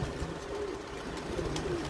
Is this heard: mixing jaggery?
no